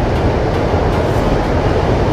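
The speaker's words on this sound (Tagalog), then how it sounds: "maingay yung LRT" A noisy LRT light rail train roars past overhead at 7th Avenue, Caloocan, a loud, dense, continuous rumble of wheels and carriages filling the short span.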